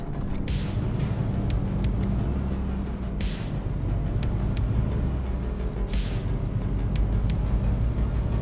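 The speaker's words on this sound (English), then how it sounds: "Do you hear how quiet this truck is?" A quiet truck engine hums steadily while driving, a constant low drone with repeated faint clicks and a couple of brief hissing swells, close and unbroken.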